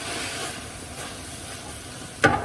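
Precooked potatoes, raw kale and veg stock heat over a campfire, giving a soft, steady sizzle and hiss with a brief louder clink near the end.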